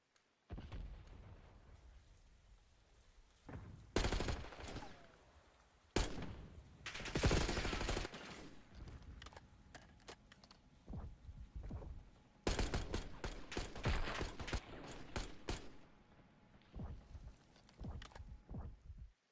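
Rapid bursts of gunfire from an esports shooter video game match, with loud clustered volleys separated by quieter stretches of softer game sounds, heard alone without talk.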